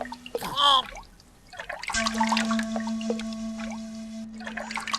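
In a Kazakh animated cartoon, water is poured out to irrigate crops, a splashing, trickling pour that follows a short animated voice and runs under bright sustained tones.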